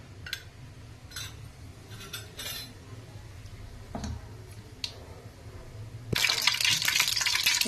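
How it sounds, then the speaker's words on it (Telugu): Mustard seeds hit hot oil in a heated pan while a non-veg curry is being made. A few light metallic clinks come first, then a sudden loud, dense crackling sputter takes over near the end. "ఇప్పుడు ఆవాలు చిప్పట్లాడినాయండి."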